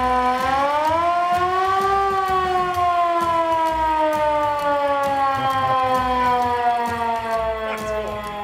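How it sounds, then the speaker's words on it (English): An old fire engine's mechanical siren at the San Antonio Fire Museum in Texas wails steadily and very loudly, its pitch rising slowly then sagging as it winds down, with no talk over it. "You want to use the siren? Go ahead."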